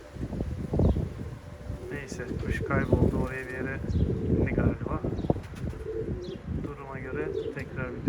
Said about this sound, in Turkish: Ama şu anda bütün kuşlar geldi.